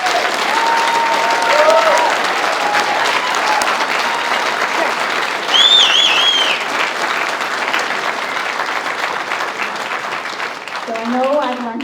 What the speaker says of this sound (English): So Jason deserves a huge round of applause.